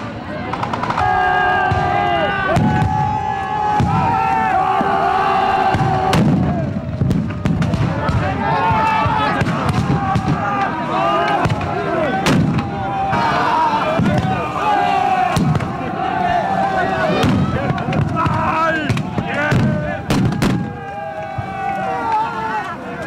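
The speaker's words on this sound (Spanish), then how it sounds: "los cristianos, que llenan sus escopetas de pólvora mezclada por ellos mismos y disparan constantemente al aire" Shotguns loaded with homemade gunpowder fired repeatedly into the air during a Moors and Christians festival battle in Sóller, Mallorca, sharp bangs recurring amid crowd noise, shouting and talk.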